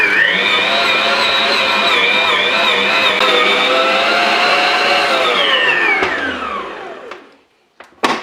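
A stand mixer's beaters knead brioche dough at high speed, giving a loud, steady whirring motor whine that holds for about six seconds, then winds down and stops, followed by a couple of faint clicks.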